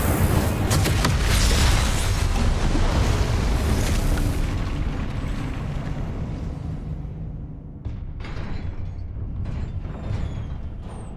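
Fiery blasting-spell explosions from the Hogwarts Legacy video game: a loud, dense wash of booming blasts and crackling debris for most of the stretch, thinning slightly toward the end, with no talk.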